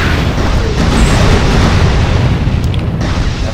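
Booming space weapon fire from a fleet battle in the strategy game Galactic Civilizations II: Twilight of the Arnor, a dense, loud rumbling barrage of blasts and explosions that runs continuously for several seconds.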